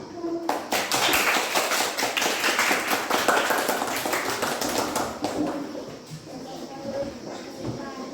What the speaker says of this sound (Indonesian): Tepuk tangan untuk kelompok 2, kelompok 3.